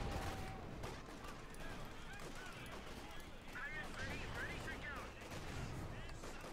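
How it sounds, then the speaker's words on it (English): Mortar fire in the video game Company of Heroes 2 from a double mortar position: a dense, continuous clatter of blasts and gunfire, loud and busy throughout, with battle noise layered on top. "double mortars laying down heavy fire here"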